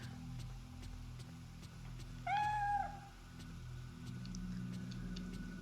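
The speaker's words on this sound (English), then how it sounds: "I hear the cat." A single clear cat meow rises and falls in the video game Fatal Frame III, standing out over a quiet, steady background hum with faint ticking.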